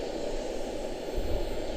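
A Boeing 777-200 jet airliner at Charlotte-Douglas airport, heard as a steady, distant engine roar with a low rumble swelling briefly near the end, no voices.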